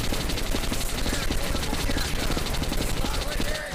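Sustained automatic gunfire in the Metro: Last Light video game, a rapid, loud rattle of shots continuing without pause while a person talks over it.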